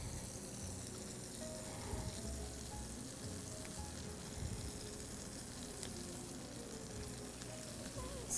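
Fresh thyme sizzles steadily in hot butter in a pan for brined pork chops, a soft, continuous frying hiss with no talking.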